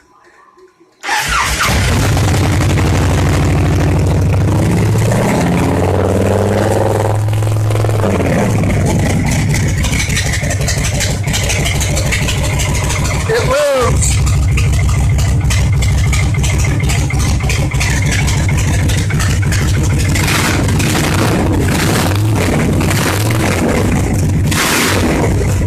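A motorcycle engine that had injector trouble cranks, catches and starts, then settles into a loud, steady idle with small throttle changes and a brief rev near the middle, while a person talks over it.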